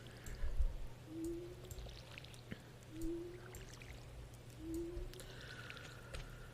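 Crops being watered in the farming game Stardew Valley: three soft pouring splashes spaced evenly about every one and a half seconds, faint and alone over a low steady background hum.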